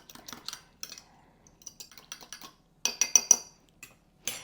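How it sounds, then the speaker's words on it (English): A spoon clinks and scrapes against a bowl while stirring a yeast mixture, in light irregular taps and short clusters of chiming contacts, close and clear with no talk. "I'm just going to stir it around just a few minutes and we're going to wait till it gets good and foamy"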